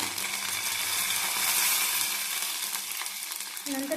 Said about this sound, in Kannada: ಈಗ ಸಾಸಿವೆ ಹಾಕ್ತಾ ಇದ್ದೀನಿ ಸ್ವಲ್ಪ ಜೀರಿಗೆ ಸ್ವಲ್ಪ ಕರಿಬೇವು